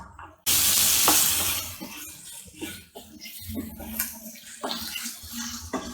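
Chopped onion, one large onion, sizzling in oil in a pan, a steady frying hiss with stirring clatter and scraping throughout, fairly close.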